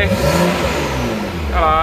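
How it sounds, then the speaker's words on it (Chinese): BMW F11 535 fitted with a Fi-Exhaust, revved from idle with the exhaust valve closed, giving a steady loud engine drone that rises into a sharper rev near the end. "怠速吹，阀门关吹"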